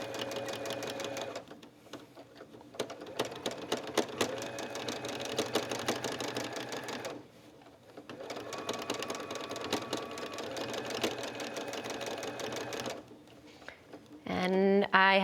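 A sewing machine stitches down the raw edges of a scrappy quilt applique in fast, steady bursts of rhythmic clatter, pausing briefly between runs, close and fairly quiet.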